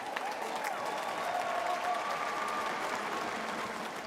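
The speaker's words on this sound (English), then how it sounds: "Let's give them a big round of applause." Sustained applause from a large audience at the opening ceremony of the 2017 North American Indigenous Games, a steady even wash of clapping with some crowd noise, filling the whole stretch without a break.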